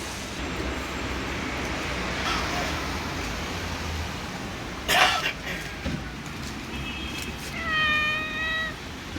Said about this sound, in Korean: 야옹이가 너무 귀여웠어.